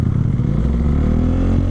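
A motorcycle engine riding through traffic among large trucks, a loud, close, throbbing low rumble whose pitch shifts slightly as the rider throttles, with no voices.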